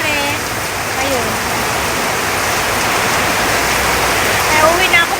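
Heavy rain pours steadily during a typhoon, a loud, dense rushing wash that holds evenly throughout with brief patter and splashes near the end.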